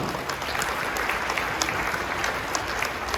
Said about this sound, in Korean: 힘찬 축복의 박수로 오늘의 식을 시작하겠습니다